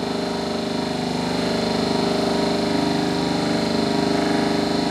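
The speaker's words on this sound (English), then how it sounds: "We have maintained the speed of the machine very much close to its rated speed, that is 1500 RPM." A DC shunt generator runs steadily near its rated 1500 RPM in a lab, giving a continuous, even mechanical hum with a buzzy tonal drone and no change in level.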